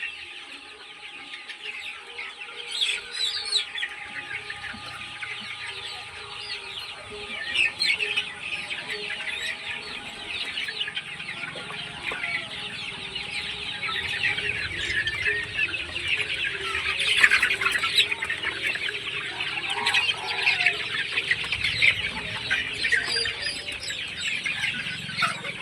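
Kadaknath hens cluck and chatter steadily among a flock, with scattered chirps and bursts of busier clucking, fairly close and continuous throughout with no talking.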